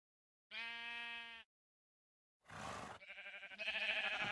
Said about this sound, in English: time for more sheep spawning madness.